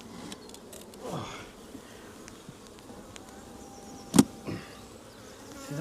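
Honey bees hum and buzz steadily inside an opened hive during a morning inspection, a faint continuous drone with a brief sharp knock of handling near the end.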